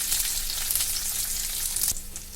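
Asafoetida hitting hot oil in a tempering of curry leaves and garlic for mint chutney, a steady hissing sizzle with light crackles and a short stirring clink near the end.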